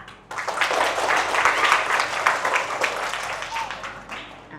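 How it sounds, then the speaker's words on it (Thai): Applause for a student council candidate at a school assembly: a steady crowd of hands clapping for several seconds, moderately loud and fairly close, slowly thinning toward the end. "ขอเสียงปรบมือให้กับผู้สมัคร ประธานนักเรียนและคณะกรรมการเบอร์หนึ่งด้วยค่ะ"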